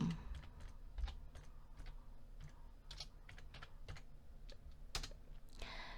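Computer keyboard typing during data entry for a wholesale electronics sales record: irregular quick key clicks with brief pauses, close and moderately quiet over a faint background hum.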